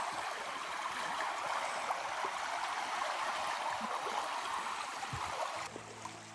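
A river in the Norwegian countryside flows with a steady, soft rushing wash, continuous and moderately distant throughout, with a faint low knock near the end.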